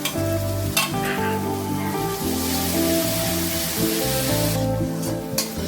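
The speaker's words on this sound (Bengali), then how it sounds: "আবার আমি সবকিছু মিশিয়ে নেব।" Fish curry masala with yogurt is stirred in a frying pan, a steady loud sizzle with repeated spatula scrapes and knocks throughout.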